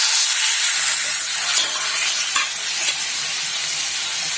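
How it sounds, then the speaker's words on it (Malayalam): Marinated boneless chicken drops into hot oil in a pan, a loud continuous sizzle and hiss with scattered stirring scrapes and clinks, close up and without talk. "ഇനി നമുക്ക് മിക്സ് ചെയ്ത് വെച്ചിട്ടുള്ള ചിക്കൻ ഇതിലേക്ക് ചേർത്ത് കൊടുക്കാം"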